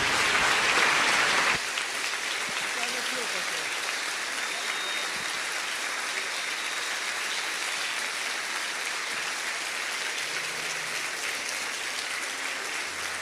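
A church congregation applauds as a guest reverend is welcomed to the pulpit, a steady, full wash of clapping that holds evenly across the hall for over ten seconds.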